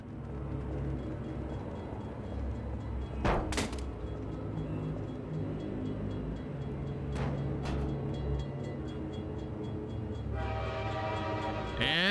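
In the VR video game Half-Life 2, a train horn blares in two long blasts over the low rumble of a passing train, loud and near, with a brighter clattering rise at the end.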